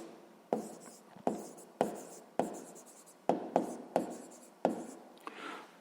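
Pen strokes on paper while working a sixth-grade maths exercise by hand, a series of about ten short scratchy bursts in an uneven rhythm, close and fairly quiet.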